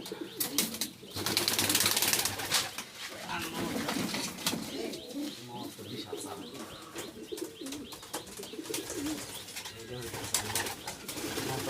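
Giribaz pigeons cooing indoors with repeated throaty coos and chirps, some wing flutter and rustling, people talking quietly in the background.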